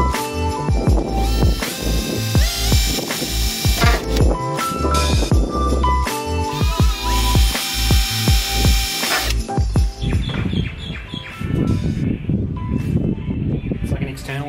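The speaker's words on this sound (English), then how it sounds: "Now I'm just going to drill the holes." A power drill whirs in short bursts and ratcheting spurts up close, drilling holes for a gas box in a Toyota Coaster bus conversion, with a longer stretch of lower grinding toward the end.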